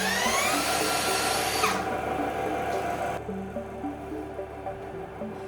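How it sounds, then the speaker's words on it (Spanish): A cordless drill whines steadily as it spins an alternator, its motor pitch holding then dropping as it slows, with a high mechanical squeal fading out partway through. "Y ahora con este taladro de batería iniciemos el movimiento del alternador."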